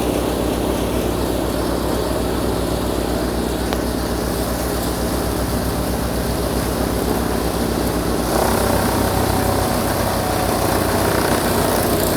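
A 2E 2EMH-T1 branch shredder runs loudly and steadily, its engine droning without pause while straw and coconut husk are fed through, with a slight shift in tone near the end.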